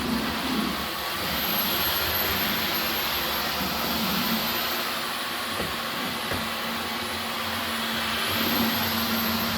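A Dyson V15 Detect cordless vacuum cleaner runs on a dining room floor with a loud, continuous high-pitched whine and airflow roar, its pitch shifting slightly as the motor picks up speed, close by.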